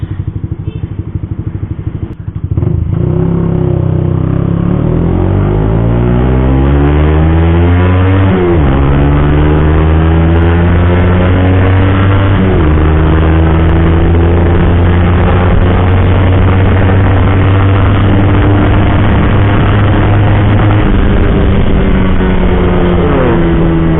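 A Suzuki GSX-R150 motorcycle pulls hard in third gear, its engine note climbing steadily through several rising revs with brief dips between surges, loud and close with heavy wind rush, held at high pitch near the end.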